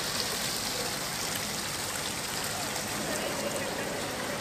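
A flowing stream near Badikhel in Lalitpur, Nepal, gives a steady, even rush of water that fills the whole stretch without pause and with no voices.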